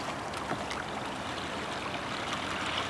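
Water splashes and trickles steadily as a kayak paddles across Lake Tahoe, a soft continuous wash with faint drips and strokes, no voices.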